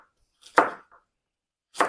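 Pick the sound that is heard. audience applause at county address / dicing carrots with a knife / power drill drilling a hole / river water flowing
dicing carrots with a knife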